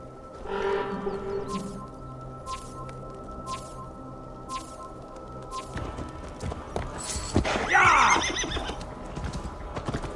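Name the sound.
horse neighing in Assassin's Creed Valhalla video game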